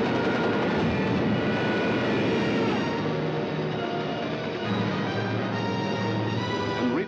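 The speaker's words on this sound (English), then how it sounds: "Some of the German bombers broke through London's defenses." German bombers fly over London in a 1943 wartime film. A steady, dense engine drone holds for about seven seconds at even loudness, with a slight dip near the end.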